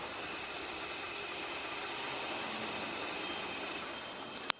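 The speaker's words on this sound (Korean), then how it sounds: "엔진 소음을 먼저 들려드리면은" Kia K9 3.8 GDI V6 petrol engine idling with the hood open, a steady, smooth, quiet hum running evenly throughout with no roughness, ending in a brief click.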